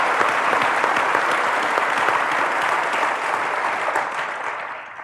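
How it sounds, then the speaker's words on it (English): An audience at a string theory panel gives a steady, dense round of clapping that holds strong for five seconds and tapers slightly at the end. "Let's give him a round of applause."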